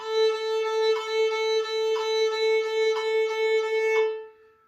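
Bowed violin notes on a single open string, repeated in an even triplet rhythm with clear pulses at each bow stroke, played alone.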